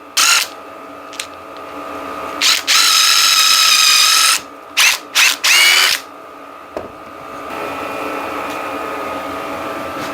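A power drill bores a pocket hole in wood, heard as several close, loud whirring bursts of varying length with short pauses, then a steady quieter hum.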